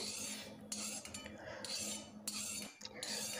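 Ghee-roasted cashews are shifted from a kadhai into a metal pot with a spoon, producing close metallic scraping, rattling and clinking in short repeated strokes without any voices.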